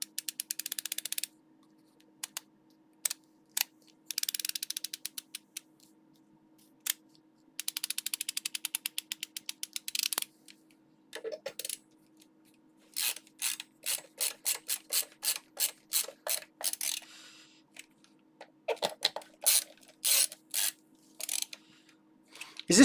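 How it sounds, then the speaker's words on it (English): A screwdriver worked on an amplifier during repair, giving bursts of quick ratcheting clicks in irregular runs with short pauses, close and fairly quiet, with no talking. "Screwdriver sounds so good. Screwdriver ASMR."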